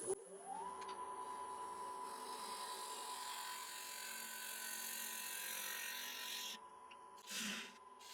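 Wood lathe spinning a wet wood blank as a gouge cuts it, giving a steady, fairly quiet scraping hiss over the motor's hum, with a brief shift near the end.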